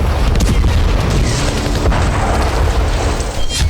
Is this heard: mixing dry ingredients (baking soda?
no